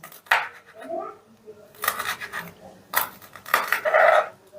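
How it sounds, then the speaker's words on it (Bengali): Green chillies are chopped finely with a knife on a board, giving a few loud, sharp knocks and scraping taps in uneven bursts up close, with short quiet gaps between them. "এবার কাঁচা লঙ্কাগুলোকে আমি ছোট ছোট করে কেটে নেব মানে যতটা সম্ভব ছোট করে কেটে নিচ্ছি"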